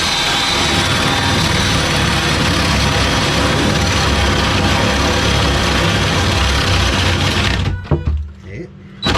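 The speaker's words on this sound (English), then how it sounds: "it helps if I put it in drill, not screw." A loud, steady mechanical whine of a power drill running continuously in drill mode, boring into an RV wall and hitting metal, then cutting out abruptly near the end with a few brief clunks.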